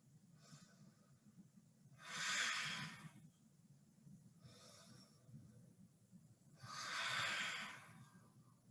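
Slow, deep yoga breaths come in long airy swells, two stronger inhales or exhales separated by quieter ones, close and soft against a low background hum.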